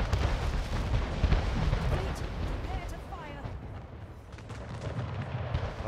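Cannon fire from enemy warships in the strategy game Anno 1800, a dense, continuous rumble of booming shots and blasts running throughout, with a player talking over it.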